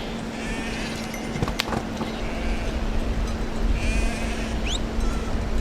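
Goats bleat in short calls over a steady outdoor background in the remote Himalayan highlands of Upper Dolpo near Tibet, where nomads graze their herds.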